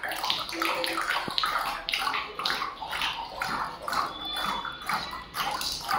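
A person imitates galloping horse hooves with the mouth, producing a quick run of rhythmic clicking clip-clop bursts close to the listener without any speech.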